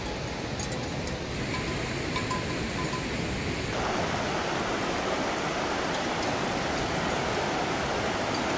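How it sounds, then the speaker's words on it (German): Water pours steadily over a cliff edge at a waterfall on the Bolaven Plateau in southern Laos, a dense, continuous roar that fills the scene, growing slightly fuller partway through. "Nun blicken wir erstmals auf die Abbruchkante, an der sich das munter strömende Wasser seinen Weg in die Tiefe bahnt."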